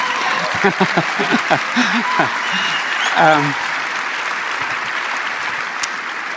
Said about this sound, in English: let's give him a big applause for those beautiful films